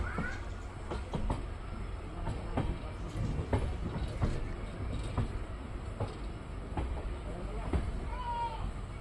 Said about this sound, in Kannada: ನಮ್ಮ ಟ್ರೈನ್ ಈಗ ಹೊಸಪೇಟೆ ಜಂಕ್ಷನ್ಗೆ ಎಂಟ್ರಿ ಆಗ್ತಿದೆ ಪ್ಲ್ಯಾಟ್ಫಾರಮ್ ನಂಬರ್ 1ಕ್ಕೆ